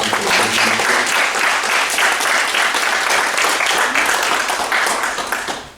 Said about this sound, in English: Let's give a round of applause for Edison.